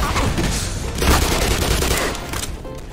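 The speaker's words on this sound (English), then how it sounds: "Oh, we're getting shot at." Gunfire in the video game Black Mesa, a dense rattling burst of shots, loud and continuous, with a bump in intensity midway.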